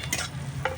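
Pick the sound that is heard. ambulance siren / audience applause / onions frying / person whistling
onions frying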